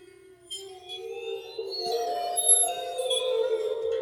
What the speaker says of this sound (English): As a source sound, I have a few Waterphone samples.